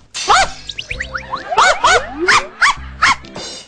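A dog barks repeatedly, loud and close, in a series of sharp yaps and barks with short gaps between them and no talking.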